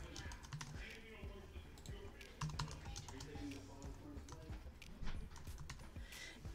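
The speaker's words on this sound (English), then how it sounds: "So I'm just going to type in love you." Rapid, quiet clicking of computer keyboard keys, tapped steadily in an irregular rhythm over low background noise.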